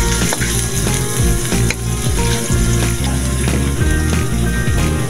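Garlic, onion and bay leaf sautéing in hot cooking oil, a loud, close, continuous sizzle broken by rhythmic clatters and scrapes of a utensil against the pan, with no voices.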